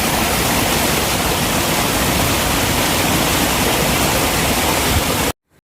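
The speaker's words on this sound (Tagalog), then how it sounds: "May patubig dito sa loob ng park." Steady, dense rush of a flowing water feature in the Serene Garden at Gardens by the Bay, loud and continuous with no voices, cutting off abruptly near the end.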